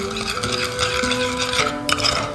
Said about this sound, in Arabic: ونقلب